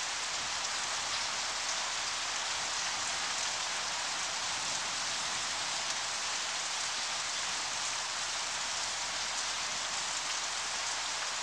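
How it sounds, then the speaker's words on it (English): A heavy downpour, the first after months of drought, hisses steadily and evenly throughout, a dense, unbroken wash of rain with no voices. "Finally, after months of drought, a long-awaited downpour."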